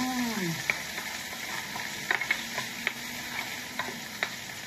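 Onions sizzle in a hot pan while a utensil stirs them, a soft steady frying hiss punctuated by light clicks and taps of the spoon against the pan, fairly close and quiet, with no talk.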